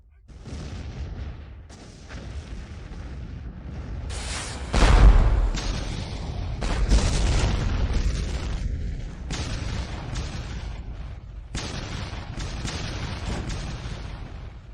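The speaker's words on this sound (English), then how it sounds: "Your cannon is so powerful." A powerful cannon fires in a historical war game, with a series of heavy booms and crackling bursts over about fifteen seconds, one strong low thump standing out, against steady battle noise.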